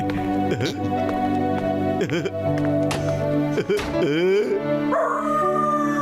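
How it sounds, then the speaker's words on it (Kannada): Animated puppies in a Motu Patlu cartoon howl, whine and yip in drawn-out wavering cries, several voices overlapping loudly and continuously, performed by voice actors. "ಯಾಕೆ ಬೋಬೋ ಅಂತ ಇದ್ದೀರಲ್ಲ?"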